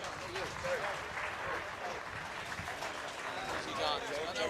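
Applause from a crowd at a Westmeath GAA senior football final in 2023, a steady broad clatter of many hands close by, with some talk and crowd murmur mixed in throughout.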